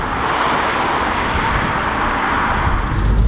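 2006 BMW 1-series M Sport hatchback out on the road: steady, loud engine and tyre roar with wind noise throughout, alone with no talking.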